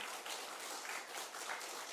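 Congregation clapping together during a Sunday worship service at a church, a dense, steady wash of many hands heard from a distance and fairly faint, running for the whole stretch without speech.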